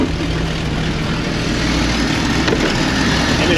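A 1994 Jeep XJ with the 4.0 engine idles with a steady, loud low rumble that hunts for RPM, heard up close with no talking.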